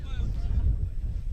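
Wind gusting across an open rugby field during a match at Beaulieu, a low, rumbling buffet against the microphone that swells and eases, with a voice talking over it.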